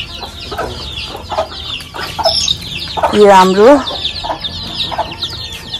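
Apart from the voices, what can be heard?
chickens clucking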